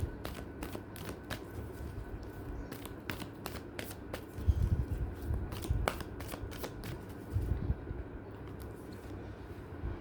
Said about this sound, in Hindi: सबसे पहले मैं भगवान जी का एक कार्ड निकालती हूँ